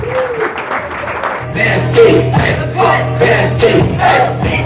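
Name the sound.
audience applause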